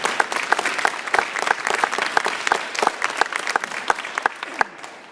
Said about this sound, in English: give me a round of applause because we are blessed to have them